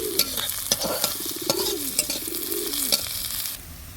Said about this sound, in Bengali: পেঁয়াজ কুচিটাকে আমি লাল করে ভেজে নেব